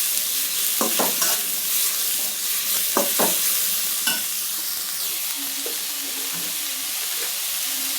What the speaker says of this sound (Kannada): ಅದಕ್ಕೆ ತರಕಾರಿ ಹಾಕಿ ಬೇಯಿಸ್ತಾ ಇದ್ದೀನಿ.